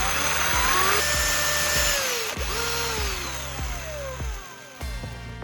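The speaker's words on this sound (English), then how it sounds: "I'll use a drill to make a small hole in the cap of the PVA glue bottle" Power drill boring a small hole in the plastic cap of a PVA glue bottle, a steady close whine with pitch dipping and rising as the bit bites, in short repeated bursts with no talking.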